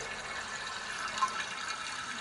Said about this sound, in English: I have water now draining from this spin dryer